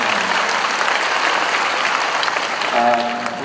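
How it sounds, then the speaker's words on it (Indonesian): Audience at an Indonesian diaspora economic discussion applauds in a steady, loud burst; a voice starts speaking over the clapping near the end. "Tepuk tangan."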